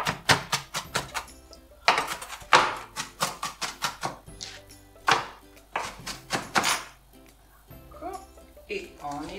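A knife chops onion on a cutting board in a home kitchen: a quick run of sharp, close knocks in rhythmic bursts, pausing briefly between runs, with a voice talking faintly at the end.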